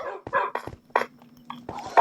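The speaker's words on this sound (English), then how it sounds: "Dogs, quit getting yourselves killed." Dogs bark in the video game Minecraft, giving a run of several quick, close barks in irregular bursts over a low steady hum.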